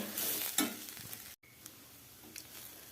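Cabbage and onion thoran is stirred and sautéed in a pan, with a soft sizzle and a few scraping stirs. It is faint and close, with a short break of silence partway through.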